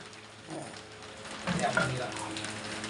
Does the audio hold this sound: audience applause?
no